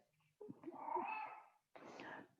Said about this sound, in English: The cat needs some loving and attention.